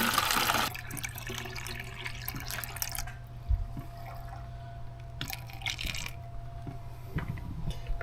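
Kiwi bio-enzyme liquid, fermented for 90 days, is poured into a bottle: a louder splashing gush at the start, then a soft trickle and occasional small clinks and drips, close and quiet.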